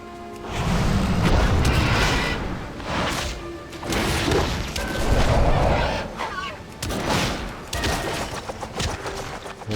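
An explosive barrage in World of Warcraft: Mists of Pandaria rumbles through repeated heavy booms and crashing bursts, loud and rolling, swelling and fading in several waves.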